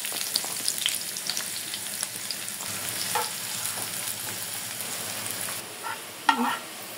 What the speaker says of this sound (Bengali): দিয়ে দিলাম পেঁয়াজ কুচা এবং রসুন কুচা।